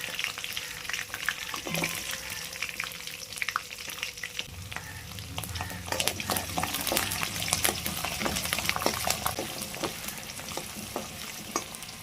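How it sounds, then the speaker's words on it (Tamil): A generous handful of garlic fries in hot oil in a pan, a steady close sizzle broken by sharp crackles and pops as it is stirred, with no voices. "அடுத்து பூண்டு வந்து ரெண்டு கை அளவுக்கு போட்டுக்கலாம்"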